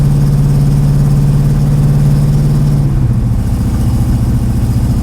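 A Corvette engine idling with a steady low rumble, close and loud, its pitch dipping slightly partway through.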